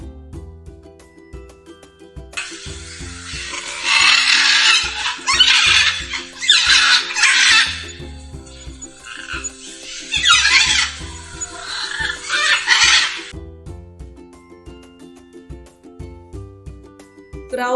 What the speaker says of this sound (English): Peacock sounds scream.